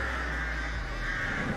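Crows summoned by the Artist killer's power in a Dead by Daylight-style horror game, cawing harshly in a dense, close flurry over a low steady rumble, with no voices.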